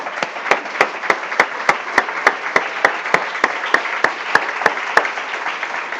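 A church congregation applauds in a steady, even rhythm, a loud and unbroken wash of hand claps over the full stretch.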